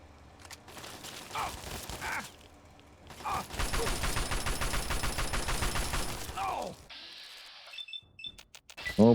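Automatic assault rifle fire in Fallout 3, heard as a sustained rapid burst of shots after a few scattered earlier reports, ending with beeping interface tones.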